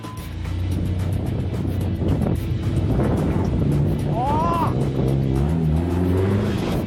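A turbocharged Dodge Neon SRT-4 with an AGP turbo pulls away, its engine note loud and steady and rising in pitch as it accelerates, with faint voices and wind noise in the background.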